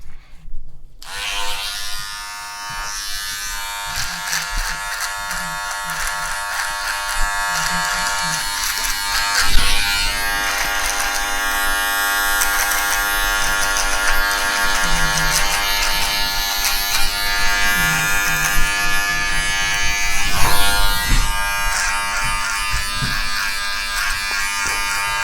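Electric shaver buzzing steadily and close up as a barber shaves a client's neck and tidies the hairline, a continuous whine with small shifts in pitch and pressure and no talking.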